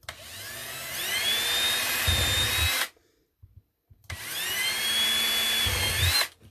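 Drill with a small bit boring into wood to make a clay extruder die, a loud whining motor running in two bursts of a few seconds each, separated by a short pause with faint handling sounds.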